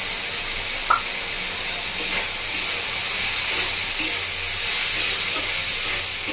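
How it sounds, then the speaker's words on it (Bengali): Bhindi masala with turmeric and Kashmiri chili powder sautéing in a pan, giving a steady broadband sizzle and hiss with a few faint scrapes of stirring, close and moderately loud, no voices. "ভালো করে কষিয়ে নিচ্ছি।"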